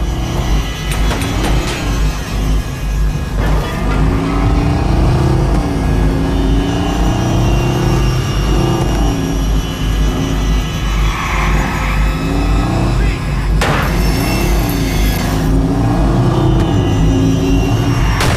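Loud, continuous engine roar from a car in the Watch Dogs video game, rising and falling steadily as the vehicle revs and speeds away during an escape, with no talking.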